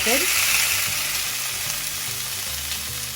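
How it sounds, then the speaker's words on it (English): A hickory-smoked steak, reverse-seared, crackles and sizzles steadily in a hot pan, loud and close, with no break in the frying noise. "So I'm just gonna put it in. We're gonna get a quick sear."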